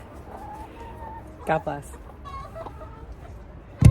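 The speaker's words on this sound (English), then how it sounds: "Chickens!" Chickens, some sick and broody, cluck and squawk nearby on a farm in short, scattered bursts, with a brief spoken phrase and a loud thump at the end.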